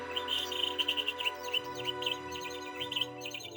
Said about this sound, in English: Snow White played with the birds.